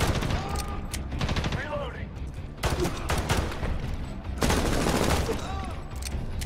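Dense rapid gunfire and fusillades from the video game Medal of Honor (2010), loud and continuous with bursts of automatic fire, while a voice speaks briefly over it.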